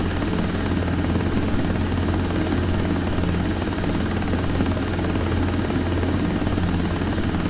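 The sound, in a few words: helicopter flying in desktop helicopter simulator video game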